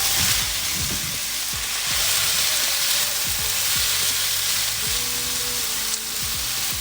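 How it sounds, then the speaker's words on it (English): Onions, chilies, garlic and cherry tomatoes fry in olive oil in a big pan, giving a dense, continuous close sizzle with scattered clinks from stirring. "we add the onions, chilies, and garlic to the pan"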